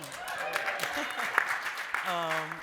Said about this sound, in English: I pay everybody to clap like that.